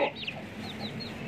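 An Aseel hen gives a few soft, brief clucks, faint and fairly close, over a steady low background hum with no talking.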